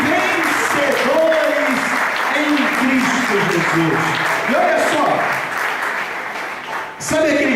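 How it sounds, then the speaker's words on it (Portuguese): A church congregation applauds Jesus during a Portuguese sermon, steady loud clapping filling the hall, with some vocal tones rising through it before it fades near the end. "Quantos podem aplaudir Jesus por isso?"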